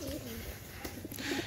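Pigeons in a loft during heavy rain give a few soft, low coos, faint and close, over a steady wet background hiss.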